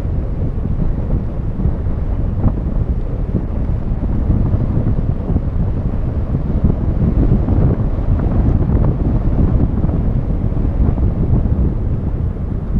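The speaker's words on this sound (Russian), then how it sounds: "Ветер переменился" Strong wind buffets the microphone during a bicycle ride on a mountain pass, a constant low roar, loud and unbroken throughout.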